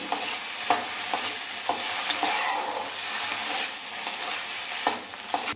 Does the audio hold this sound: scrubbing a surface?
no